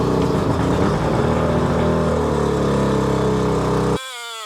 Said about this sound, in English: I think this motor is like full of two-stroke oil, so we just got to burn it out.